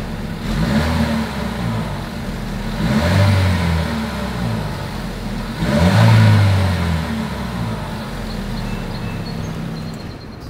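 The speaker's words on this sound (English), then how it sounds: "As always, here is that exhaust clip." A 2022 Chevrolet Equinox compact SUV engine idles steadily through its single exhaust, then revs sharply twice, each throttle blip swelling and falling back to a low, even idle.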